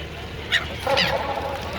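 A bird gives two short goose-like honks, close and fairly clear, over background murmur at the Magh Mela in Prayagraj.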